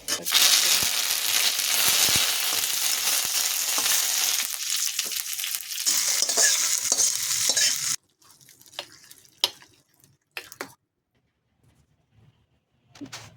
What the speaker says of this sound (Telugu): ఆవాలు వేసాను ఎండుమిర్చి వేస్తున్నా